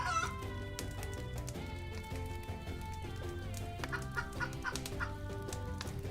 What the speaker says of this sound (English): Oh, look at this big chicken.